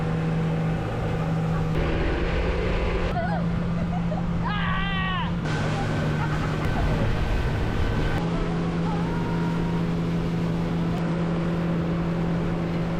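Motorboat engine droning steadily under way off Steinhatchee, Florida, heading out for scallop season, with wind and water noise throughout and a few brief voices over the running motor.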